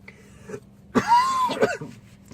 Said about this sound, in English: I got something to help with that cough.